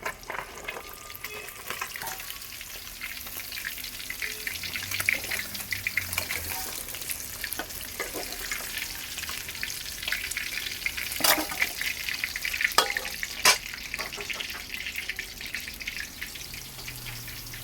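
Fish fry in hot oil in a pan, a continuous crackling sizzle with sharper pops and occasional spatula scrapes as pieces are turned, close and steady throughout with no talking.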